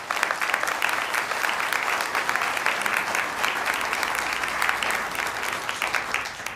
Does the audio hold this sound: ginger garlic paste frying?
no